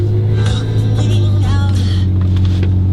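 A 2012 BMW M5 F10 with a 4.4 litre V8 fires up with keyless start, a deep steady idle hum close and loud, with a short rev-like swell near the start and someone speaking over it.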